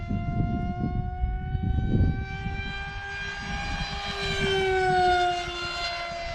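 An electric motor on a Hobbyking Teksumo EPP RC flying wing, run on a 4S battery at just over half throttle, whines in flight with a steady rising and falling pitch as it passes, over some wind noise.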